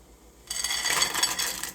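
A rattling, hissing clatter begins abruptly and continues as dry pasta pours into a pot of boiling salted water, close and fairly loud.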